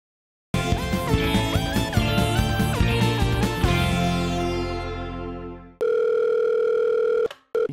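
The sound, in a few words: telephone dial tone while calling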